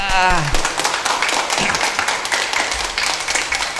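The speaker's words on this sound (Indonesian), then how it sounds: "Tepuk tangan buat panitia." A church congregation at a Christmas Eucharist celebration applauds the committee, a steady wash of many hands clapping mixed with voices and music in a large space.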